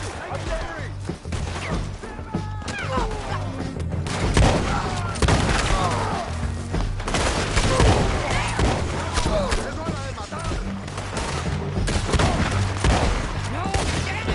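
Gunfire in Red Dead Redemption 2, with sustained bursts of shots, booms and crashes across the whole stretch, loud and dense, over a steady low game score and with voices shouting in the background.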